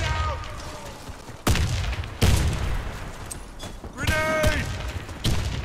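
Grenade blasts and gunfire ring out in the shooter game Warface, several loud, abrupt bursts with rumbling tails, close up, mixed with shouted voices.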